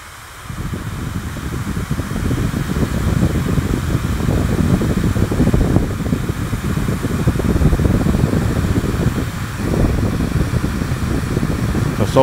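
Hair dryer running on low heat and low speed, powered from an Ecoflow River 2 Max portable power station, gives a steady, close whooshing fan roar after it switches on, with no talking.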